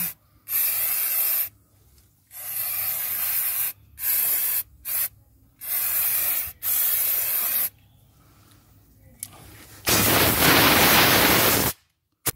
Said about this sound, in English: what we use is this brake cleaner in the spray can